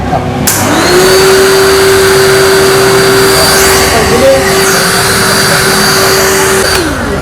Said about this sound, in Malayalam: ഒരു ജെറ്റ് ഒരു കംപ്രസ് എന്നാണ് ഇതിൻ്റെ പേര്